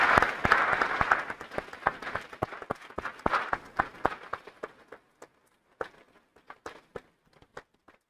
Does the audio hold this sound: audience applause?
yes